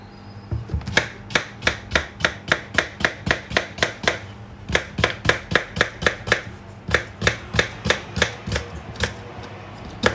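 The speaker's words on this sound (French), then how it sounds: "on va venir couper le concombre." A knife slices through a cucumber on a board for a cold cucumber-mint soup, giving a fast, even run of crisp chopping strokes, close and loud, with a brief pause midway and no talking.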